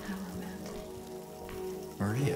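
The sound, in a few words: rain falling in the video game Silent Hill 2 Remake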